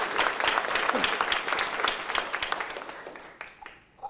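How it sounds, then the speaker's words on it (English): An audience at a magazine launch evening gives a round of brisk applause that is fairly loud at first, then thins and fades toward the end. "So let's give her a round of applause for all that she's done here."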